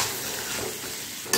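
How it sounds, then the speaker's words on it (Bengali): Pointed gourd (potol) frying in oil with salt and turmeric, a close, dense, steady sizzle that ends with a sharp burst of crackling. "এবারে তেলের সঙ্গে এই পটলগুলো একটু ভালো করে ভেজে নিতে হবে।"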